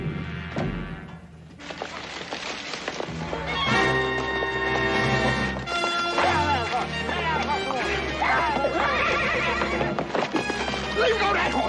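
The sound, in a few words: horse neighing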